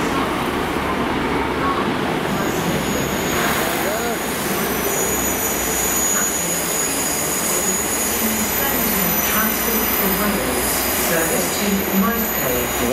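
A train passing through Cardiff Central station, a loud continuous rumble with squealing wheel tones and rolling clatter throughout, with people talking nearby.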